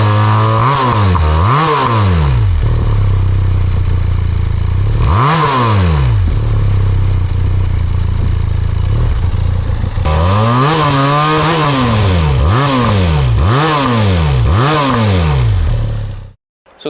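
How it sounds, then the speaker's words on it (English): A Benelli TRK502 parallel-twin motorcycle engine runs close by, revved repeatedly in rising and falling sweeps with a steady idle between bursts and a quick run of blips near the end, loud and without speech. "It almost sounds like a 4-cylinder motorcycle for a parallel twin, that is."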